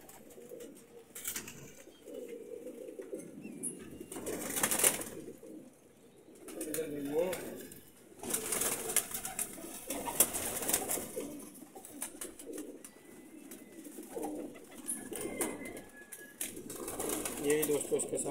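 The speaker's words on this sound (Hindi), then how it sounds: "बड़े अच्छे साइज़ का कबूतर है ये जी गया माशाल्लाह कबूतर।" Teddy pigeons in a breeder's loft, soft throaty coos rising now and then with a few wing flaps and rustles, mostly faint and scattered under someone talking.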